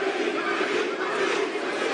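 Wrestling arena crowd cheering and roaring continuously at a live event, a loud, dense wall of voices that holds steady throughout.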